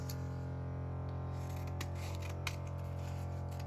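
Scissors snip through transparent collage washi strips in a few quick, close cuts over a steady low mechanical hum, with no one speaking.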